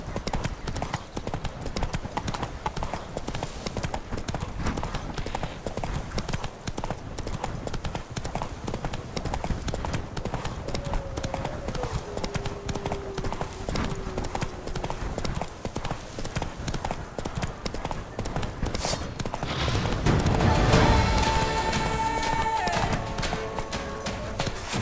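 Rapid, continuous hoofbeats of a galloping horse in a video game, with galloping steady and prominent over background game sound and a brief brighter burst near the end.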